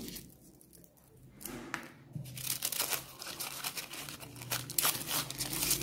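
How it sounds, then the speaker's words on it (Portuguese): Paper is crumpled into balls close by in a preschool class activity, a continuous crinkling and crackling that grows louder and denser through the clip. "Vamos amassar bem o papel."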